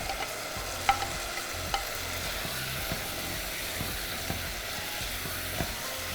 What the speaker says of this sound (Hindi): अच्छा सा हाई फ्लेम पे हम इसको भून लेंगे और पका लेंगे